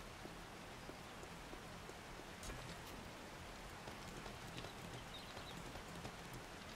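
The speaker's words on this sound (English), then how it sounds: "There's that heavy rain again, that droning sound." Heavy rain in the survival video game 7 Days to Die makes a steady, faint droning hiss with scattered drop patters and no talk.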